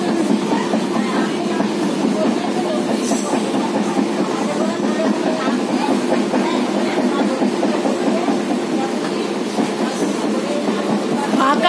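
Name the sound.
passenger train running on tracks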